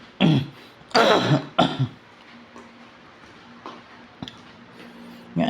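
Three harsh coughs in quick succession close up, followed by quiet room noise with faint ticking and a small throat sound.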